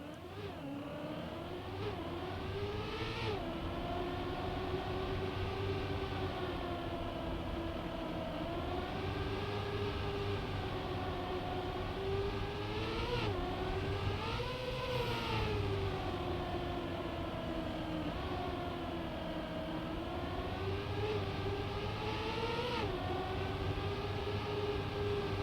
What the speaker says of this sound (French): on va regarder mon Ghost et écouter les changements de vitesse